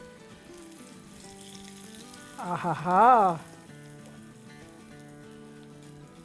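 Hot garlic tadka poured into chicken palak bursts into a loud, close sizzle that lasts about a second over a quiet kitchen background, while a voice briefly exclaims.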